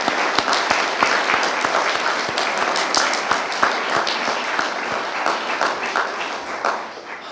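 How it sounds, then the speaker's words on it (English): A room full of people applauds an Eagle Scout at a troop court of honor, the steady dense clapping holding loud and even for several seconds before starting to thin out at the end. "Let's have a round of applause for Aiden."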